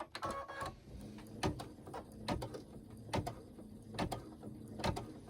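An embroidery machine stitches around fabric held in a hoop, giving a steady run of soft mechanical clicks and thumps at a regular pace, fairly quiet and close, with no talking.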